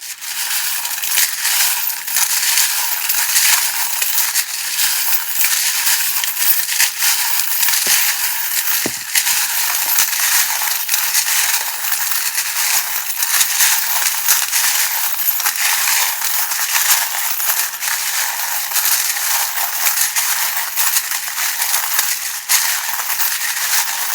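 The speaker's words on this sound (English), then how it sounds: "turn down your volume for a couple of seconds while I do the shuffling" Tarot cards are shuffled continuously for about twenty-four seconds, a dense, loud riffling and rustling close to the microphone with no talking.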